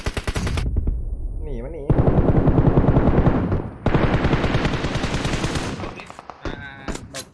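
Rapid automatic gunfire in PUBG Mobile: loud, sustained bursts of rattling shots with brief gaps between them, while voices shout over the shooting.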